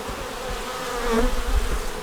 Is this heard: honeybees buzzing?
yes